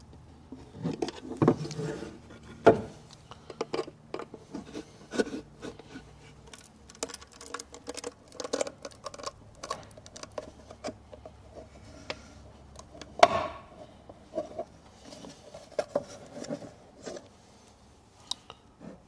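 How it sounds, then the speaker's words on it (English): An engine controller case is pried away from its circuit board with a tool, giving irregular close clicks, snaps and small scraping ticks spaced unevenly, with one sharper crack partway through. "I'm just prying it away from the circuit board"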